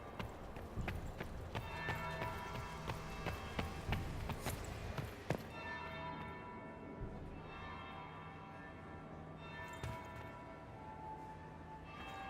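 Bell ringing in the video game Dragon Age Inquisition, with repeated metallic strikes and lingering tones in the first half over a busy, clattering background, then a quieter resonant hum with a few faint later strikes.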